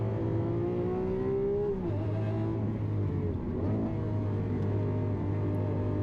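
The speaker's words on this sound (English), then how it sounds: "Ferocious shifting" A Lamborghini sports car engine drones steadily nearby at the Nürburgring, its pitch dropping sharply at a couple of gear changes before settling into a deep, throbbing idle.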